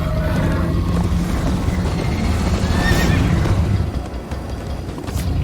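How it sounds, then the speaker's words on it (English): A horse in Minecraft: Story Mode whinnies loudly over a steady, dense run of galloping hooves, with a rushing chase backdrop throughout. "First time on a horse here."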